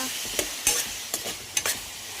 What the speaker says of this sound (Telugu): ఒక 2 మినిట్స్ ఇలా కలుపుకొని స్టవ్ మీదనే 2 మినిట్స్ కలుపుకోవాలి